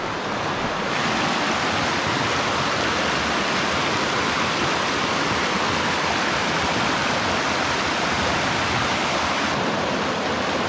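Strong current of the Dapya River beside a mountain in Cabangan, Zambales, rushes in a dense, constant roar that is loud and close, with no pauses.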